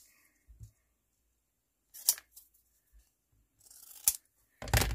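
Scissors snip washi tape in a few short, separate cuts with quiet pauses between them, close and fairly crisp, with no talking.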